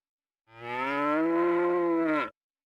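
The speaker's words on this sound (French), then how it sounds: "Vache." A cow in the Breath of Fire 3 video game gives a single long, clean moo lasting nearly two seconds, loud and alone against silence.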